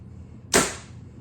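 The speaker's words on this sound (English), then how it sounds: "Go ahead and release this arrow." An arrow is loosed from a Bear Alaskan XT compound bow, a single sharp snap and whoosh that decays quickly against a quiet background.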